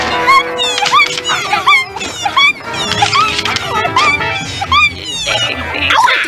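A family dog barks in sharp yips and lets out high whimpering whines, repeated bursts close by with brief gaps between them.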